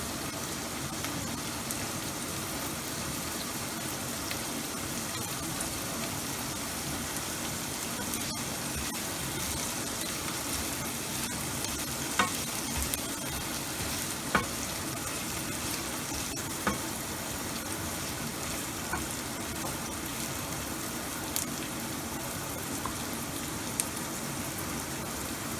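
Beans and onion frying in a pan for Karnataka-style uppittu, giving a steady, dense sizzle that runs unbroken throughout, with a few faint clicks and stirring taps scattered over it.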